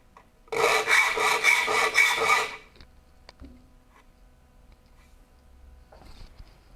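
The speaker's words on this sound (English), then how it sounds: "this is how fast filing really can be" Steel file sharpening the teeth of a rip saw, a quick burst of rhythmic rasping strokes lasting about two seconds, followed by quiet with a few small clicks and taps.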